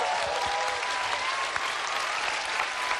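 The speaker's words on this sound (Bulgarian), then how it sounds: "Аплодисменти за Ненчо Балабанов" Studio audience applauding a celebrity-impersonation performer on a Bulgarian TV show, a dense, steady clapping wash filling the room throughout, with a few sharper individual claps standing out.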